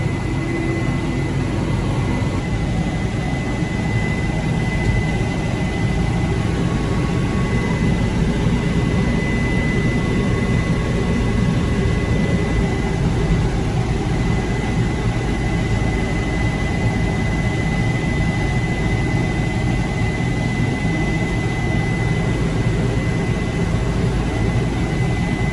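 Loud, steady engine roar straining continuously throughout, a heavy farm machine with a Detroit Series 60 engine working hard, a faint high whine above it.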